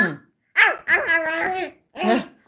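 A dog barks up close, three loud, whiny, yelping barks with brief gaps between them, one drawn out into a longer wavering cry.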